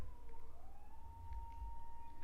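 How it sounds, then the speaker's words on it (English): A police car siren wails past outside, a steady rising and falling tone heard from a distance over a low traffic rumble, with no speech. "Here comes another police car."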